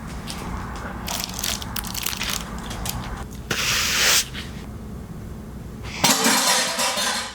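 Someone bites into a doner kebab wrap, giving crisp crunching and chewing sounds up close, with a louder crunchy burst midway and another near the end, no talk.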